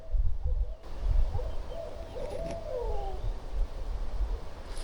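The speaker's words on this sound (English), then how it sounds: "the owls are hooting now" Soft, distant owl hoots carried on a low rumble of wind or background noise, a few calls scattered across the outdoor ambience.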